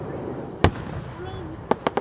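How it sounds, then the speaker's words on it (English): Fourth of July fireworks go off in sharp cracks, one single pop followed by a quick cluster of three, loud and nearby over faint background voices. "I'm watching fireworks."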